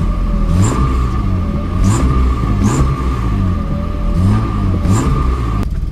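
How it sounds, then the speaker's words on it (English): A Ford Probe GT 2.5 V6 engine with aftermarket stainless steel headers idles with a steady rumble after a cold start at -10 degrees, then revs gently in several short, rising bursts before settling back. "let's gently rev it a tiny bit."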